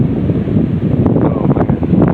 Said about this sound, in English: I just got spooked a little bit by this wind